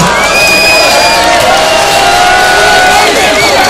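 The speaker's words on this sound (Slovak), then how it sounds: "Zatleskajte, priatelia." A loud outdoor crowd at a wet T-shirt contest cheers and whoops continuously at close range, with shouts and whistles rising over a steady roar of voices and clapping.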